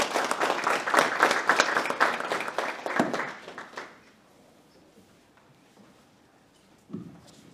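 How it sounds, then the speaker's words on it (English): An audience at a university idea pitch competition claps for a presenting team, a dense burst of applause for about four seconds that fades quickly, followed by near silence and a brief faint sound. "Let's please give a round of applause to them."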